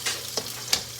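Onion for beef sinigang sautés in a pan, giving a short burst of soft sizzling broken by a few sharp crackles and pops, close and moderately loud.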